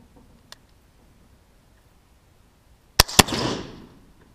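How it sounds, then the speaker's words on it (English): A CVA cap and ball black powder rifle fires once: a sharp cap snap and loud boom followed by a rolling, decaying rumble, after a quiet lead-in with a faint click. "Bit of a boom, bit of smoke."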